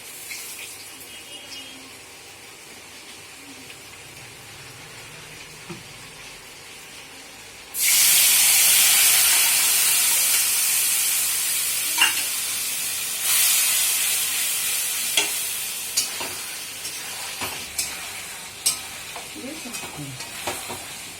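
Quiet kitchen ambience, then a spice paste of cinnamon and cardamom mixed with water hits a hot pan in a loud sudden hiss and sizzle, a second surge following, easing into steady bubbling frying with stirring taps.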